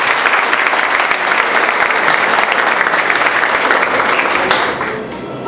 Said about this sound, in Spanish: al ingeniero José Aníbal Valbuena, para quien pido un fuerte aplauso